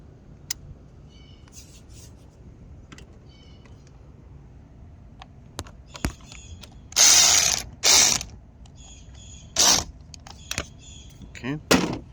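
A Durofort electric ratchet whirs in several short, loud bursts against a quiet background, with faint clicks and handling noises between them.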